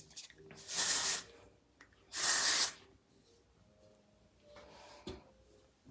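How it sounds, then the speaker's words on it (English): Texturizing spray is misted onto curly hair in two sharp, close hissing bursts about a second apart, followed by quieter handling sounds. "I would definitely recommend a texture spray."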